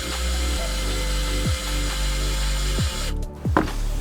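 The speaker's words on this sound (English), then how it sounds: "Right, so I've just started drilling that hole." A power drill bores a hole through a mud flap on a Ford Fiesta ST150, a close, steady whirring run with a few quick pitch-dropping slowdowns as the trigger eases off.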